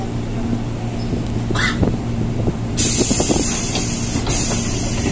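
Doors of a Chinese-made commuter train closing: a short burst of hiss, then a loud, sustained pneumatic hiss over a steady low rumble of the carriage.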